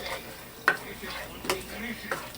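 Lobster pieces cooking in a pan for shrimp scampi with white wine sauce, giving a soft steady sizzle broken by a few sharp stirring scrapes and clinks.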